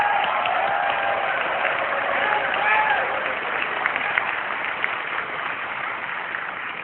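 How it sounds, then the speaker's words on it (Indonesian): Audience applause at an Indonesian presidential debate, a broad wash of clapping from a crowd that holds steady and slowly thins, with faint voices and tonal sounds over it. "Kita berikan tepuk tangan kalau itu."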